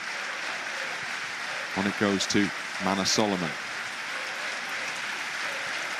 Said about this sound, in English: the home supporters join in with their applause